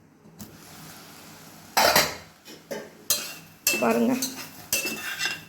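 Spoon stirring intestine pepper curry in a pan over full heat: irregular scraping and clinking strokes against the metal, loud and close, with a brief spoken word.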